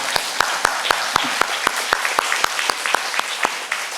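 Applause from an audience at a book launch for a pastor's biography, a steady burst of clapping with sharp individual claps standing out, fairly close and loud, continuing throughout.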